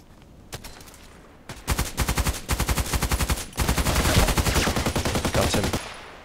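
SCAR-L assault rifle fire in a shooter video game, with rapid loud bursts of automatic shots in quick rhythmic volleys that run almost continuously for several seconds.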